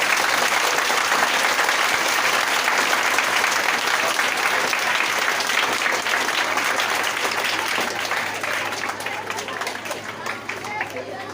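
Loud, dense applause from a classroom audience at a Teacher's Day celebration in a coaching institute, welcoming a speaker with fast continuous clapping and crowd noise that gradually softens toward the end.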